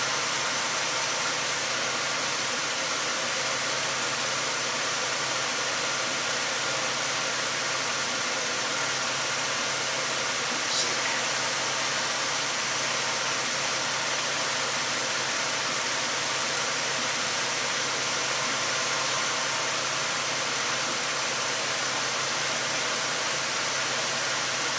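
Car engine idling with a misfiring ignition coil, a steady close broadband rumble and hiss throughout, with one faint brief tick partway through.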